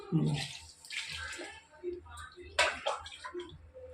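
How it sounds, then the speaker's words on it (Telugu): Water pours and splashes into a pot for making pongal in uneven bursts, fairly quiet, with small clinks and gurgles. "ఇప్పుడు వాటర్ వేస్తున్నాం"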